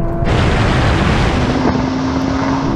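A Nissan GT-R, Porsche 911 and Audi R8 accelerate hard side by side in a drag race, a loud sustained engine roar with wind rush heard from inside one car, pitch climbing steadily with a brief gear-change dip.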